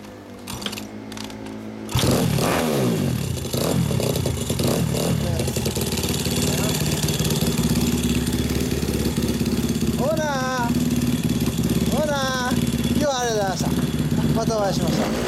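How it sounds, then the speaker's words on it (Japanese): A customized Honda XR100 motard with an unidentified aftermarket exhaust and carbon parts runs steadily and loudly close by, its engine drone continuous after a quieter start, while people talk over it throughout. "ごめんなさい、エンジン音聞かせてください。"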